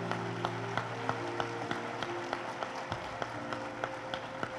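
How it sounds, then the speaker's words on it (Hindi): A crowd at a Hindi-language rally breaks into sustained applause, with sharp rhythmic claps landing at a steady beat over a dense wash of hands and a low tonal hum underneath. "बजनी चाहिए तालियां"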